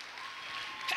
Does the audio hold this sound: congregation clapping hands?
yes